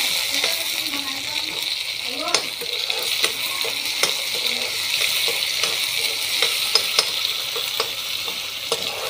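Garlic and tomato crackle in hot oil as a tempering for dal, a steady close sizzle broken by frequent light metallic taps and scrapes of stirring.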